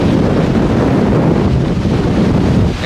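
Strong coastal wind on the northern Luzon shore, roaring steadily and buffeting the microphone in a loud, unbroken rumble with no voices.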